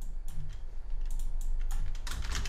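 Fingers type on a computer keyboard, a quick run of light clicking keystrokes, close and steady, over a faint low background hum.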